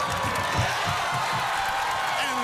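Dense crowd noise roars steadily at an American Ninja Warrior course during the Los Angeles finals, a continuous wash of cheering and whoops with faint low voices underneath.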